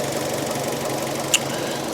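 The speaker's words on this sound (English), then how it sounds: "Nice quiet engine actually, very quiet." A salvaged Fiat 500's car engine idles quietly and evenly, with a faint ticking knock and one brief sharp click partway through.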